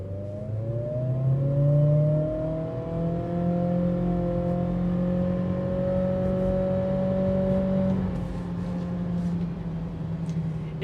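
A 2026 Acura ADX luxury SUV accelerates on a test drive, its engine note climbing in a steady, rising drone with a whirring tone over road noise, sustained and fairly loud throughout.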